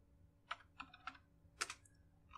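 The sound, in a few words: typing on a computer keyboard in MATLAB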